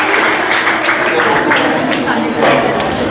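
A classroom group claps for a correct answer in an Uttarakhand general-knowledge quiz, a dense and steady round of applause lasting about three seconds, close and fairly loud.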